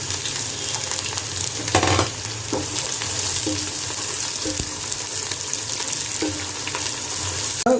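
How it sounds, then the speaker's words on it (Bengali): Onions sizzle and fry in hot oil in a home kitchen pot for biryani, a steady close crackling hiss with occasional stirring clatters and a brief louder burst, no talking. "তেলটা মনে হয় গরম হয়ে গেছে, তুমি পেঁয়াজটা দিয়ে দাও।"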